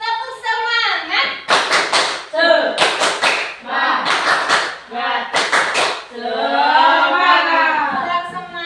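Children at an Indonesian school do the 'tepuk semangat' clapping chant, calling out the words together in sing-song unison with sharp bursts of rhythmic hand claps between the lines.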